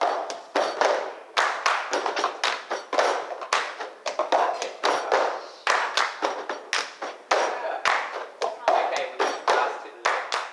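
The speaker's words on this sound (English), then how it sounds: "Performers sitting at a table create the percussion by clapping their hands and tapping, scraping and drumming on overturned plastic cups" Performers seated at a table clap their hands and tap, scrape and drum on overturned plastic cups, making a steady run of sharp, rhythmic percussive hits that continue close and lively throughout.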